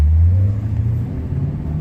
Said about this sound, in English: Revs out very smooth.